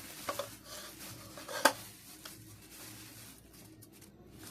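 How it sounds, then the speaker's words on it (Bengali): Hilsa fish being washed by hand in a kitchen, with faint splashing, rubbing and soft clinks of a bowl or pot, a few sharper knocks standing out against quiet background. "তাই ইলিশ মাছটা ধুই"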